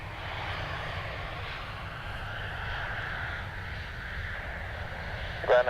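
A Ryanair airliner roars down the runway at Dublin Airport, a steady, broad engine rumble heard from a distance that holds through the whole stretch.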